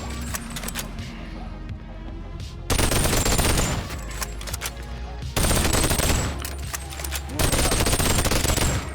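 Two-handed ranged weapon fired from the hip in a video game: three long, loud bursts of rapid automatic fire, close and harsh, separated by quieter stretches of game ambience and a voice.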